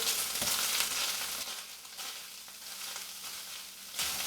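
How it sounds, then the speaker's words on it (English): Hamburger meat frying in olive oil in a pan, a steady close sizzle with occasional scraping stir sounds throughout, no talking. "let's add just probably another tablespoon of olive oil in there and stir it around a little"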